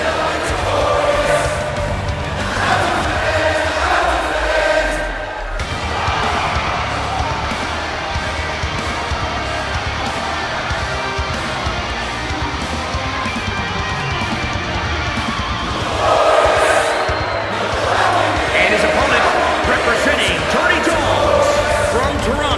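Crowd noise from a WWE 2K22 wrestling video game swells and roars steadily throughout, with a broadcast-style ring announcer talking over it, louder surges near the start and end.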